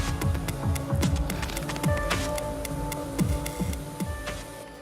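A Holz-Her Weinig CNC nesting machine cutting wood panels gives off steady mechanical running noise with repeated rhythmic ticking and whirring pulses, close and continuous, with no voices.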